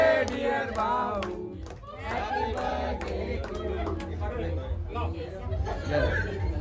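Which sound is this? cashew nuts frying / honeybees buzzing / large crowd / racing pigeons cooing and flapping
large crowd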